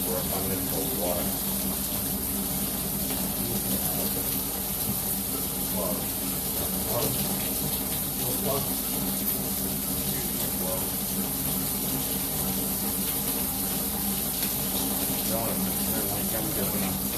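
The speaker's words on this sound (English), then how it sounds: "I'm going to hit it with an overabundance of water." Water runs steadily from a tap at full flow, a continuous broad hiss and splash lasting throughout, close and fairly loud, with faint voices or household noise mixed underneath.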